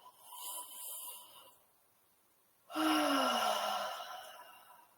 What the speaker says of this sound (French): On bâille ensemble.